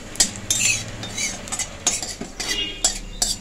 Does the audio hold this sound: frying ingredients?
yes